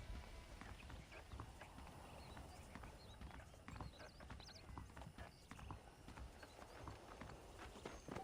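Horse hooves clip-clopping at a steady walking rhythm in the Red Dead Redemption Wild West video game, fairly close and continuous, with faint ambient background.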